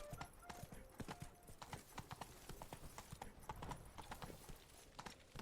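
Hooves clip-clop rapidly and steadily as a horse gallops in The Witcher 3: Blood and Wine, a close, rhythmic pounding that continues throughout.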